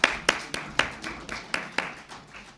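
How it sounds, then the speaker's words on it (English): Scattered hand claps from an audience at the first LPL cricket player auction at the Shangri-La hotel, a few sharp claps spaced unevenly rather than a full ovation, moderately close with room echo. "Can we at least applaud for Mahesh?"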